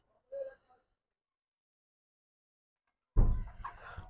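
Pigeon chick calling: a short, faint squeak, then after a silence a louder, raspy cry close by.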